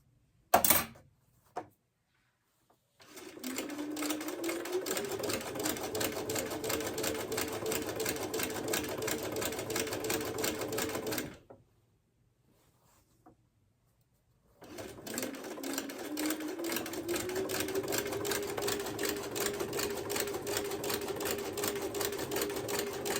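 A sewing machine stitches a quilt block in two long steady runs, a brief pause and a gap of near silence between them, the motor hum rising as each run settles into pace.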